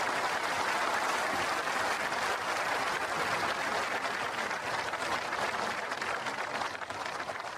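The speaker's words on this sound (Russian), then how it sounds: "аплодисменты." Applause for a man called to the microphone as an election candidate, a sustained wash of clapping from an audience, fairly faint and even, thinning slightly toward the end.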